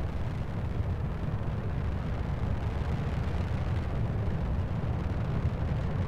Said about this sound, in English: There's something exploding.